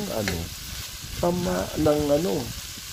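Mixed vegetables for pinakbet stirred and cooking in a pan, a soft steady sizzle under a harmonic, voice-like sound with a few short bursts of it.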